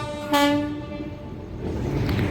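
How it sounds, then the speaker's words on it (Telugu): A Godavari Express train horn blares loudly as the train arrives near Visakhapatnam station, one sustained blast followed by rumbling rail and wagon noise that continues underneath. "స్టేషన్ నుంచి అలా బయటకు వచ్చామో లేదో గోదావరి ఎక్స్ప్రెస్ వచ్చేస్తుందండి"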